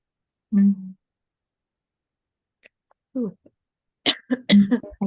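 A single short cough breaks the quiet, followed after a pause by a few brief bursts of close-up speech.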